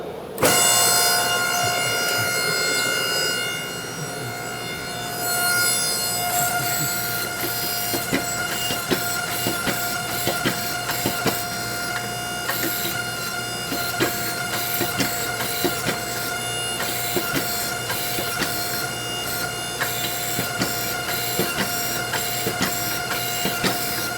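A 25 ton forging press works a heated Damascus canister filled with guitar strings, a loud, dense mechanical roar with a steady tonal drone, a louder opening surge and irregular clanks and ticks throughout.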